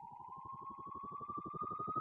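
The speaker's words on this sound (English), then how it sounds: "they've got like a police siren and a helicopter coming after you" A Phase Plant synthesizer police siren effect preset plays alone, a steady wailing tone that slowly rises in pitch under a fast pulsing warble, loud and continuous throughout.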